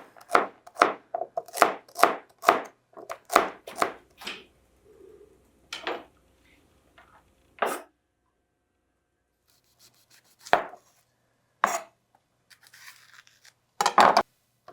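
A knife chops carrots into chunky pieces on a board, first in a quick run of about a dozen close, crisp strikes, then slowing to scattered single cuts separated by pauses.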